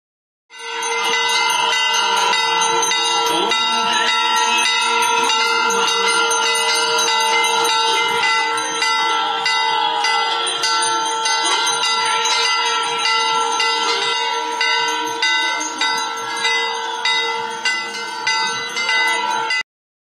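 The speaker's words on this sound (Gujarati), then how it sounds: "સરયુ તડપડની આરતી અને કાનમાં સંભળાતો આ ઘંટનાદ" Temple bells clang continuously during the evening aarti on the Saryu riverbank in Ayodhya, a loud, dense metallic ringing that holds steady for nearly twenty seconds with no voices.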